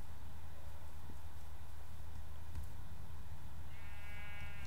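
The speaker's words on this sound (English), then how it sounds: "There's sheep over there." A Minecraft sheep gives a single bleat near the end, clear and fairly close, over a low, steady game background hum.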